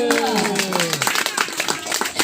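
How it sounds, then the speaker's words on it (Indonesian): Audience applause at an Indonesian election event, a brief burst of clapping that rises under a fading voice, mixed with crowd noise for a couple of seconds. "Tepuk tangan untuk"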